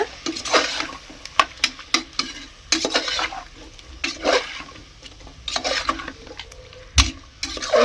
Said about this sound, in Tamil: உப்பு போட்டு நல்லா பரட்டி எடுத்துருங்க